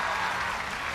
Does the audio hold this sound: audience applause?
yes